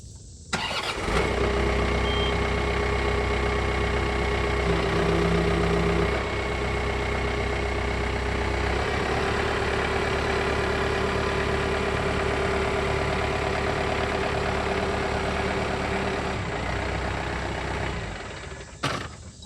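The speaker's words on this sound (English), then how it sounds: "You got to back the tractor away slowly or really fast" A John Deere 4052R compact tractor fitted with an H180 front loader starts and runs, its engine a steady, loud, close mid-pitched idle and drone for most of the run before cutting off at the end.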